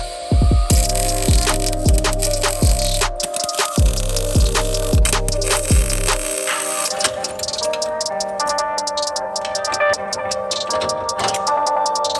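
A welder tacks a suspension gusset in place. Bursts of buzzing arc come in a regular rhythm, then break into a harsh, crackling spatter, loud and close throughout.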